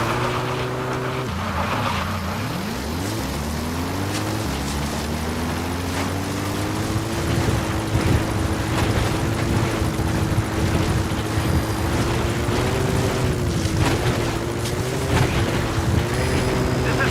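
Pequod helicopter arriving at a landing zone in Metal Gear Solid V, a steady droning rotor and engine hum that shifts in pitch as it approaches, continuous and fairly loud.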